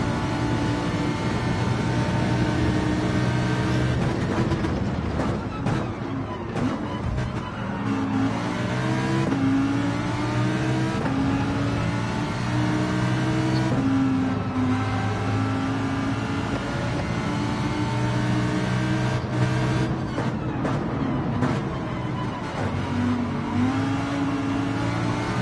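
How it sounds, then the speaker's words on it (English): A Nissan race car engine in a racing video game drones steadily for the whole stretch, its pitch climbing and dropping through gear changes and throttle lifts, loud and continuous with no talk over it. "the Nissan is pretty quick, I'm finding out, in this race this week"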